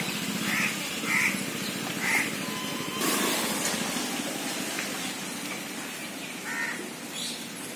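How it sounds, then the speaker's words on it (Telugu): Steady rain sets in as a soft, continuous hiss, with crows cawing several times over it at a moderate distance. "వర్షం మాత్రం స్టార్ట్ అయింది ఫుల్ గా"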